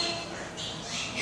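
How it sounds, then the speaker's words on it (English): A bird in a zoo's bird area gives a short, harsh squawk, close and fairly loud, lasting about a second. "Hey, where is the bird?"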